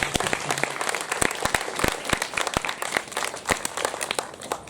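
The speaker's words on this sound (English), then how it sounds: "give me a round of applause for all our speakers." An audience at a live show of community theatre sketches claps and applauds for the speakers, a dense, continuous patter of many hands that stays fairly loud throughout with no one talking.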